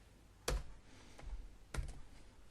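Ctrl-Alt-J shortcut pressed on a computer keyboard, heard as two separate crisp clusters of key clicks about a second apart, close and fairly quiet with no talking.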